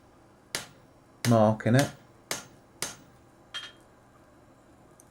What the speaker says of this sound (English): we're going to chisel down all four sides